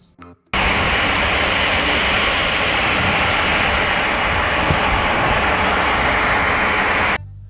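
An airplane flies over with a loud, steady broadband roar that starts abruptly, holds constant for about six and a half seconds, then cuts off.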